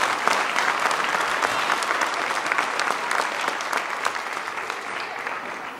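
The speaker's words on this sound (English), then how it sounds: "let's give them a big hand of applause" An audience applauds a school show by grade 1 to grade 5 students, with steady, dense clapping that stays loud and close for several seconds.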